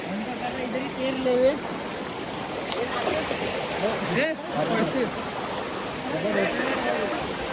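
Rushing water of a cold river crossing flows steadily throughout, with people's voices speaking over the continuous wash of the stream.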